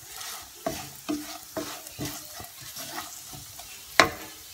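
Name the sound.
green chillies frying and stirred in a pan for garlic curry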